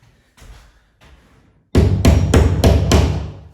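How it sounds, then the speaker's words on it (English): Five loud, sharp hammer blows come in quick succession, driving a wall fixing with rear prongs into plasterboard on a stud wall, following a couple of faint soft knocks as the fixing is set in its hole. "hammer it so the prongs on the back go into the plasterboard."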